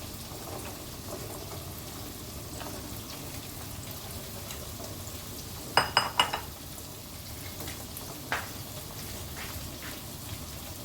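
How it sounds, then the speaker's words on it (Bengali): Salted water at a rolling boil in a pot with rice added, a soft, continuous bubbling patter, with a quick run of metallic utensil clinks partway through and one more later. "এখানে দেখো জলটা ফুটে এসছে বেশ ভালোভাবে"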